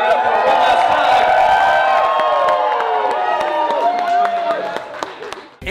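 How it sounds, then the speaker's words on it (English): Wedding guests at a reception give the newlyweds a big round of applause, loud crowd clapping mixed with cheers and whoops, sustained close up before fading slightly at the end, with music tones underneath. "I want to hear one more huge round of applause for your newlyweds, Ian and Andrea."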